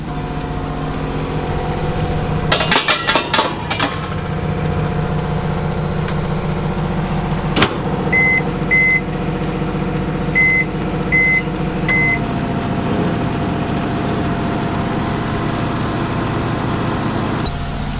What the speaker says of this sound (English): I'm continuing to have to encourage our generator